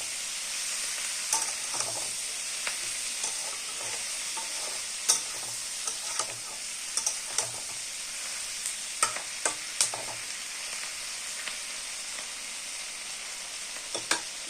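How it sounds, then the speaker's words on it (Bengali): Paneer cubes fry for chilli paneer in a pan: a quiet, steady sizzle runs throughout, broken by scattered sharp clicks and scrapes of stirring. "বয়েল তো ঠিক না, এটা ফ্রাই হচ্ছে।"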